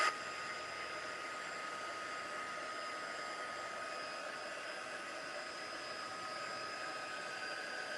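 A hair dryer blows steadily nearby, a constant whooshing hum with a fixed whine, holding even and unbroken from start to finish with no talking.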